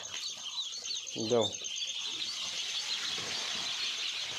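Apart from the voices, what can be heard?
ducklings peeping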